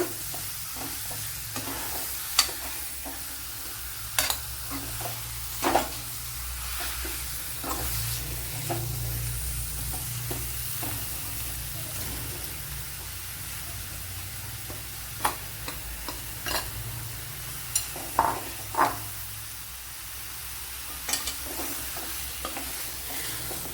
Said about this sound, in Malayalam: ഇനി നല്ലതുപോലെ ഒന്ന് ഇളക്കിയെടുക്കണം. എല്ലാം ഒന്ന് മസാലയൊക്കെ പിടിക്കത്തക്ക വിധത്തിൽ.